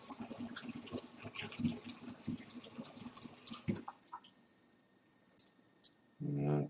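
Apple juice poured from a gallon container into a carboy for making apfelwein, a busy splashing liquid stream for nearly four seconds, then near silence with faint clinks and a short final burst of flow at the end.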